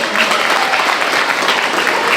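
Steady, dense clapping from an audience at the final of a children's eloquence competition, a continuous round of applause honouring the coaches, filling the whole moment at even loudness.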